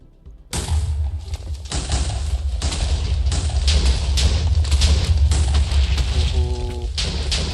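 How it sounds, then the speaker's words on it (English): A huge TNT blast in survival Minecraft sets off a sustained, loud rumbling roar of overlapping booms and thuds that runs on for several seconds without talk. "I don't think I've ever done an explosion this big in survival Minecraft"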